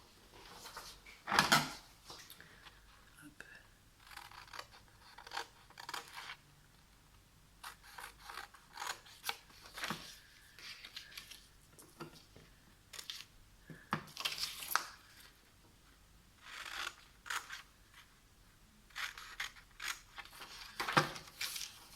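Scissors cut through paper for scrapbooking pockets in a quiet room, giving faint, irregular snips and crisp rustles spread over several seconds, with occasional handling clicks and no talk.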